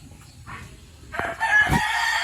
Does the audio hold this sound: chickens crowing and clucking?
yes